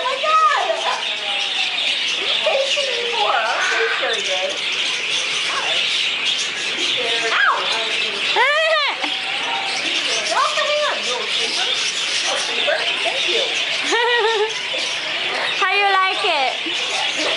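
Many birds inside a bird house at a convention chirp, tweet and coo continuously, a busy, dense chorus with frequent bright calls, while people talk nearby throughout.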